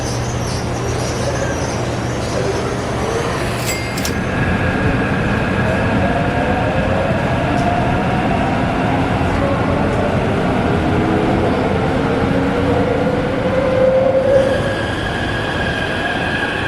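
A Taipei subway train rumbles steadily through the underground, with rising and falling drive tones and a brief high squeal of wheels near the end, loud and continuous with no talking.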